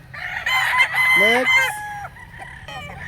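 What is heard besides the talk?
rooster crowing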